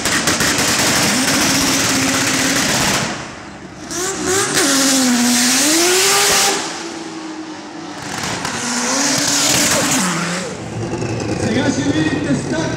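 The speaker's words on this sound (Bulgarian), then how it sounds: "Сега ще видите старта Драг автомобил." A drag racing car launches on a quarter-mile strip, its engine roaring loudly with rising and falling revs and tire noise, while someone speaks over it.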